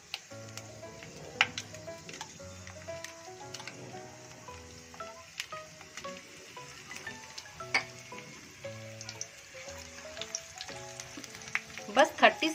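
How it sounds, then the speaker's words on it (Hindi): Whole red chillies, broken by hand, and a pinch of asafoetida frying in oil with panch phoron, a soft steady sizzle with scattered small pops and crackles, growing busier near the end. "बस 30 सेकेंड तक फ्राई करूंगी"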